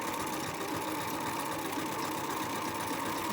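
A sewing machine runs a zigzag stitch over dental floss to gather fabric, a steady, dense mechanical whir with a fast rattling pulse, continuous and close throughout.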